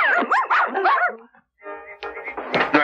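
Several cartoon dogs bark and yip together in a quick, loud burst, a brief pause, then another round of barking comes back in.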